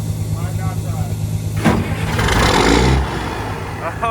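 A used fire truck's engine cranks and catches, then runs with a loud, rough rumble that swells for about a second before settling; the engine noise carries on under people talking close by.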